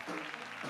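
A church congregation at an evangelical gathering claps together in a brief, dense burst of applause filling the hall, with some voices mixed in.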